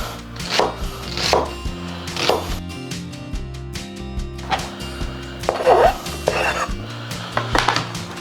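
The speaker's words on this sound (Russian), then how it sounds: "Лук можно квадратиками крупненькими, примерно так." Onion being chopped into large squares on a board: a run of sharp, close knife strikes in uneven bursts, with faint clinks of kitchenware between them.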